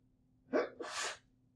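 A single sneeze breaks an otherwise quiet indoor room: a short sharp burst followed by a breathy release, moderately close and not loud, with no talking around it.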